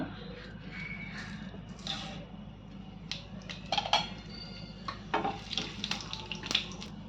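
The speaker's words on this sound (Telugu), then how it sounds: "ఆయిల్ వేడెక్కింది ముందుగా పోపు దినుసులు వేసుకుందాం" Tempering spices crackle and sizzle in hot oil in a pan for a ridge gourd and chana dal curry, a steady frying hiss with sharp popping spatters that grow denser toward the end.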